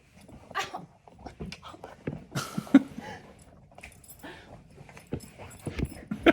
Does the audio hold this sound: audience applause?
no